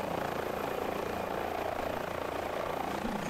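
A helicopter hovering in ground effect during a flight lesson, its rotor and engine a loud, constant drone throughout with no break.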